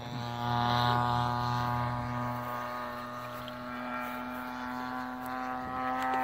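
A large Top Flite P-47 RC model airplane with a DLE 55 gas engine flies overhead, its engine giving a steady, loud droning buzz that swells slightly as it passes.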